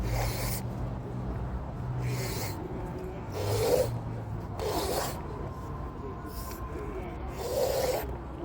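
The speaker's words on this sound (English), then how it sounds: "And now we're going to scrape it." A knife scrapes a worked palmetto stem for basketmaking in repeated long rasping strokes, about five broad passes with short gaps between them, steady and close.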